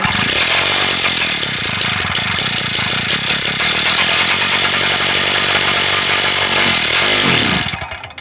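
A Jumpin Jack engine, suspected of internal wear, runs loud and steady with a raspy, chainsaw-like buzz, then bogs when the throttle is opened and cuts out near the end.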